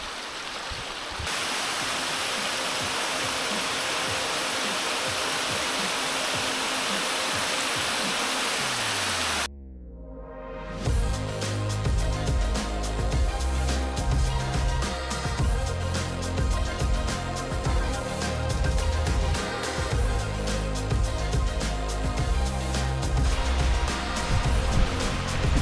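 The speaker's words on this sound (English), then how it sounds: "It's been raining, so the waterfall is pouring down." Heavy waterfall pouring down after rain on Mount Roraima, a steady loud roaring rush that cuts out abruptly midway and gives way to a rumbling, broadband torrent continuing to the end.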